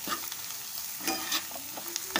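Black pepper, cumin powder and chaat masala stirred and roasted in a pan, a soft steady sizzle with scraping stirs and a few sharper clinks of a spoon against the pan.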